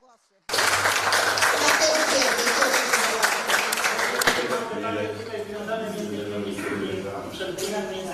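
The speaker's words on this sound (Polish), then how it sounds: "Brawa dla pana." Audience applause at a campaign meeting in Sępólno Krajeńskie, a sudden burst of dense clapping that stays strong and then gradually thins, loud and close, with a voice faintly underneath.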